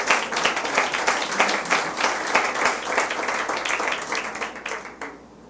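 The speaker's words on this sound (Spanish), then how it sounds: "Den un aplauso al Señor." A church congregation claps together at a Spanish-language service. The applause is loud and sustained, with dense rapid hand claps that keep going for several seconds and then fade quickly at the end.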